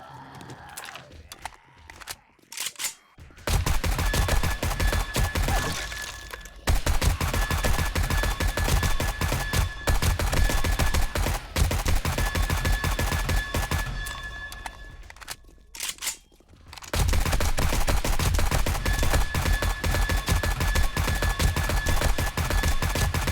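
Rapid bursts of gunfire from zombie shooting in the survival game 7 Days to Die, dense and loud for long stretches, broken by a few short pauses.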